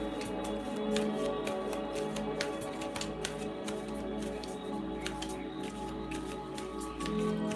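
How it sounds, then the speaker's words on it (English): Tarot cards being shuffled by hand, a steady run of quick papery riffles and soft snaps that repeat close up over a low background hum. "I'm making sure these cards are thoroughly shuffled"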